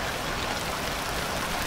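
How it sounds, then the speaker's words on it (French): Light drizzling rain in the survival game Stranded Deep makes a soft, steady hiss that is faint and even, with no other sounds. "il tombe encore une petite bruine"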